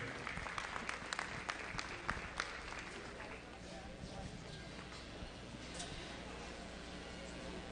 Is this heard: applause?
yes